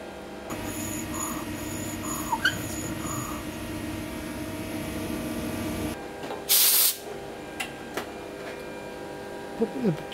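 Oil sprayed into the bored holes of a forged piston in a machine shop: one short, loud hiss of spray partway through, over a steady machine hum with small clicks.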